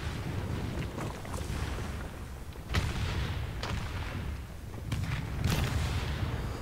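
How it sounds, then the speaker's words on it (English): Mount Etna erupting in Civilization 6, a steady low rumbling roar with several sharp explosive booms bursting through at intervals, loud and continuous with no voices. "that's Mount Etna, still exploding, left, right and centre"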